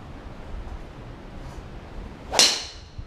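A golf club strikes a ball on the sweet spot, one crisp, sharp crack with a short ringing tail, close by and alone after a quiet stretch.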